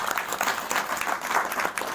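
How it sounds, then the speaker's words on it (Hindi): A crowd at a community gathering claps continuously in a dense, even burst of applause, with no talking. "एक बार कहब कि ताली मार देवा मन के"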